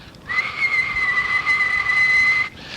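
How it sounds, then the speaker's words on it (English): A single sharp, high whistle blast held steadily for about two seconds over faint background noise. "blew a whistle"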